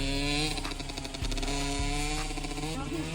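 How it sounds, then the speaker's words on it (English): A KTM SX125 two-stroke dirt bike runs loud and close, its buzzing engine note holding steady with a couple of brief dips where gears are shifted, and no talk over it. "We're gonna see if he switched that gear this time, Rob."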